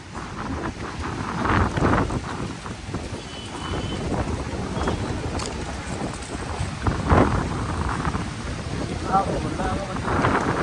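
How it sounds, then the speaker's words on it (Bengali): A violent windstorm tears through Vrindavan, bringing down large trees. Strong gusts roar and buffet the microphone in a continuous broadband rush with louder surges, and indistinct voices are partly buried in the wind. "এত ভয়ানক হাওয়া চলছে"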